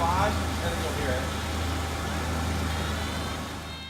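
A car engine runs close by with a steady, continuous tone and a faint whine from the idler pulley area, holding an even level throughout before easing slightly at the end.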